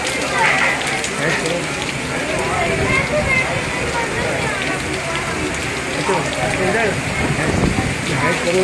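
Light rain falls outdoors in Karachi, a soft, continuous patter and hiss on surfaces, with people talking over it.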